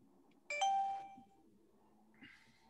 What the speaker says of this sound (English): When I hear that little bell